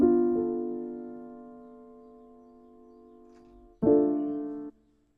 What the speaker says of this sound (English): felt piano in the Animal Crossing soundtracks